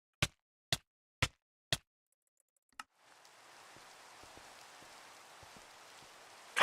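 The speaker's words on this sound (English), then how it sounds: "I hate this every freaking time that it rains" Steady, soft rain hiss begins in Minecraft's GregTech: New Horizons modpack, after four sharp evenly spaced clicks and a pause, with faint drips inside the wash.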